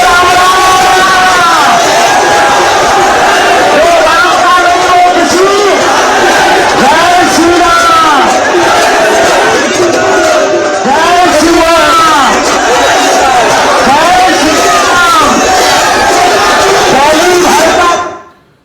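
A night-time Hindu padyatra crowd of thousands walking with a religious leader produces loud, continuous massed voices, chanting and shouting close by, before cutting off abruptly at the end.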